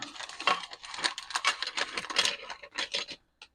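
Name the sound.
solid plastic model parts clattering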